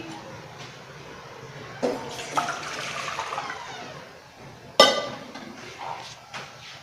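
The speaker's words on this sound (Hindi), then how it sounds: "ये मैं अपना पैन ऊपर रख रही हूँ, इसमें मैं 1 लीटर पानी डालूंगी।" About a litre of water is poured into a cooking pan in a home kitchen, making a rushing, splashy pour with sharp metallic clinks as the pan is handled, rising and fading in waves.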